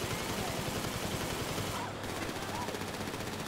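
Gunfire in GTA 5, a continuous burst of automatic shots rattling without pause, dense and steady, heard at moderate distance with a brief dip partway through.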